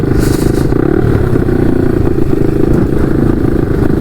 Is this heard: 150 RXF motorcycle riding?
yes